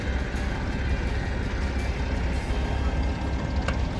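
A Toyota vehicle's engine runs steadily as it drives, a continuous low rumble with road noise, no talk over it.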